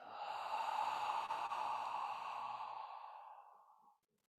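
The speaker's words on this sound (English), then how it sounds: "One more time, big deep breath." A single long, deep exhale during a qi gong session, a soft airy breath heard close and alone that fades out smoothly after about four seconds.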